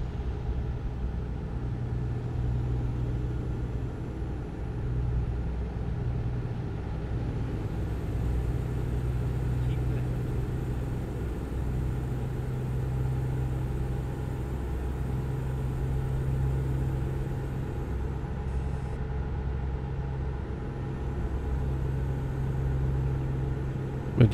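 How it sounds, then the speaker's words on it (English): Steady low engine drone of a truck cruising in a video game, with a constant hum and mild rumble throughout, no voices. "the sound of this truck sounds so nice"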